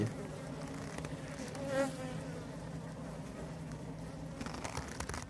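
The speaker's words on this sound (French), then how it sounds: "toutes ces petites abeilles." Many honeybees buzz in a dense, continuous drone close by inside a Kenyan top-bar hive, with individual bees droning louder as they pass near.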